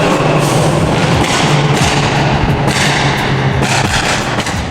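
Loud, repeated booming exhaust pops and crackles from a modified Subaru STI echo in a tunnel over a constant engine roar, coming in irregular bursts.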